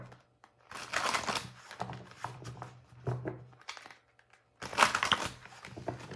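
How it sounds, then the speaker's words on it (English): Tarot cards being shuffled during a reading, giving bursts of papery riffling and crinkling in two main bouts separated by brief pauses, close and moderately quiet with no talk. "Let me shuffle the clarifying cards."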